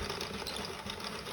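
A small knitting machine runs along its rows with a fast, continuous mechanical whirring and clatter, close and steady for just over a second, no speech.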